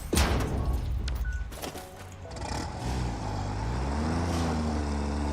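A truck in the video game Satisfactory moves off after a sharp thump, its engine droning low and steady, then rising and wavering in pitch as it gathers speed, near and moderately loud.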